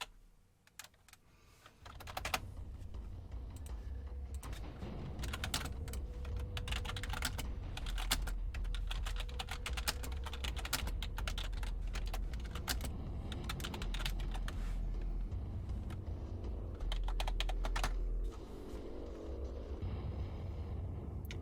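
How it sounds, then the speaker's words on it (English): A computer keyboard clatters with fast, steady typing for about twenty seconds, close and continuous under a faint background hum. "Sorry, just typing, making sure people know things."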